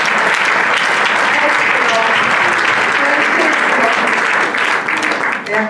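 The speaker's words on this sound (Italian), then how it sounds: "Applauso a Francesco." Sustained, loud audience applause at an award ceremony, a thick continuous wash of many people clapping throughout with a faint murmur of voices mixed in.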